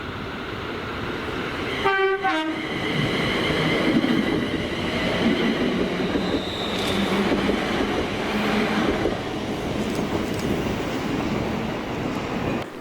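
A ScotRail Class 380 electric train passes through Paisley Gilmour Street station, a steady loud rolling rumble filling the whole stretch, with a brief horn-like tonal burst near the start.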